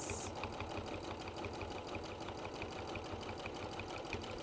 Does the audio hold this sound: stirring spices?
no